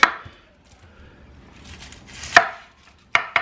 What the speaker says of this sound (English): So when doing an onion, I would always recommend cutting a side so it'll give you a safe working area, a flat surface.